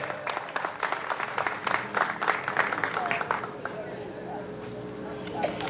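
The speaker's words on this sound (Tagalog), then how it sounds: "Palakpakan po natin!" An audience applauds through the first few seconds, a dense patter of clapping that thins out, with a microphone voice and crowd murmur underneath at what seems a community event with a band.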